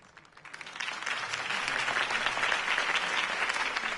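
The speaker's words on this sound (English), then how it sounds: "If only Mr. Wayne, my campaign's largest backer, could have heard that applause" Sustained applause from an audience after a campaign speech, swelling within the first second and holding steady and loud to the end.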